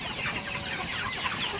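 Meat chickens on pasture give a brief burst of soft, overlapping clucking, a close, steady murmur of many birds.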